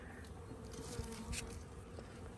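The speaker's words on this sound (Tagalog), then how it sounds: "narinig nyo yung mga bi, yung mga tunog nila, nagalit" Agitated bees fighting with birds buzz in a dense, steady outdoor drone, a few louder passes rising briefly close by.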